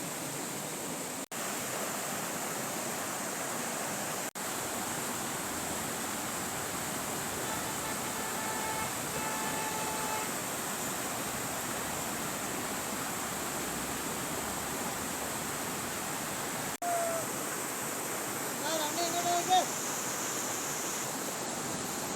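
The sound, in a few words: waterfall rushing water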